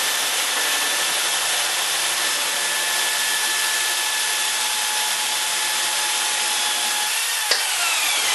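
A Baileigh TN-250 tube notcher grinds through metal tubing with a steady, high-pitched whirring drone that runs unbroken for several seconds, with a brief sharp tick near the end, close and loud with no speech.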